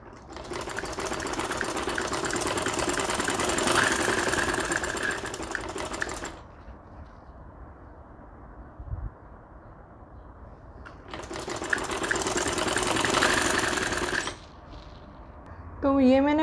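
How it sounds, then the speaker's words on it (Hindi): Electric sewing machine stitching cord piping onto a ladies shirt, running in two long steady whirring bursts with a quieter pause between, close and loud. "तो ये मैंने पूरी डोरी पाइपिंग की स्टिचिंग कर ली है।"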